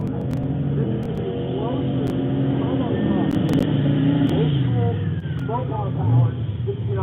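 Drag racing cars, including a newer Chevrolet Camaro in the near lane, give a steady roar of engines with some revving, heard at a distance under ongoing crowd and commentary chatter.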